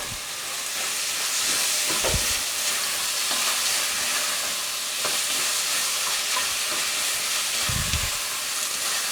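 A spoon stirs lentil stew with tomato paste in a pot, with a steady sizzling, bubbling hiss throughout and a few louder scraping knocks against the pot.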